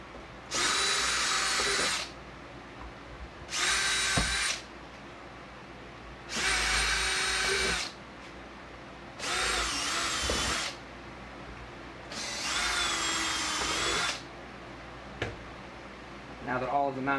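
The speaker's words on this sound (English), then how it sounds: "Now that all of the mounting holes have been drilled" A power drill bores mounting holes for speaker pods in a 2007–2014 Silverado extended cab, with five loud whirring bursts of one to two seconds separated by quiet pauses.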